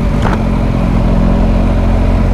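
A car driving past on a wooded road, heard from a motorcycle, a steady loud engine and tire drone with low rumbling harmonics that holds throughout without a clear peak.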